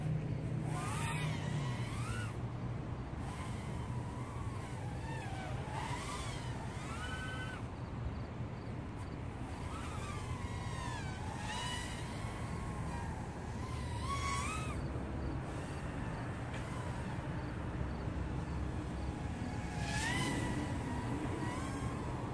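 RC airplane with HQ 1933 tri-blade propellers flying overhead, a steady buzzing whine that keeps rising and falling in pitch as it passes and turns, moderately loud throughout with no talking.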